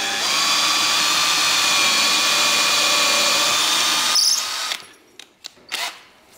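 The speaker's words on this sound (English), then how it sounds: "Theo's just beginning the arduous task of drilling" A power drill bores into the metal frame of a Sprinter van during a camper conversion, a loud continuous whining drone that cuts off near the end, followed by a few short knocks and scrapes.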